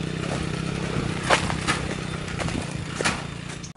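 A motorcycle carrying two riders labours up a hill, its engine giving a steady, strained low drone throughout, with a few sharp clatters and knocks rising briefly above it and no talking.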